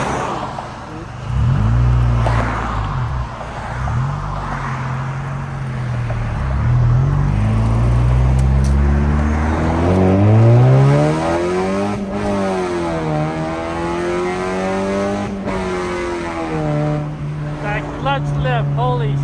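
Honda Civic engine with a slipping clutch, droning loudly from inside the car as revs rise and fall in long sweeping climbs, with a person talking over it.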